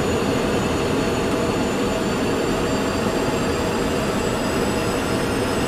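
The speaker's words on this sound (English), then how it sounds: "I'm starting my second engine, stand by." F-15 jet engine spooling up inside the DCS flight simulator, a dense steady roar with a rising high whine on top, loud and continuous with no voices.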